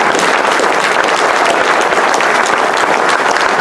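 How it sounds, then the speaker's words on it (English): Audience at a Notre Dame College Prep Hall of Honor event applauds the Hall of Fame inductees, a loud, even, continuous roar of clapping with no pauses. "I'd like a big round of applause for everybody that's in the Hall of Fame"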